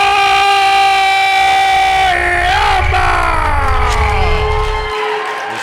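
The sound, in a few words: wrestling crowd cheering for Kaiden Koyama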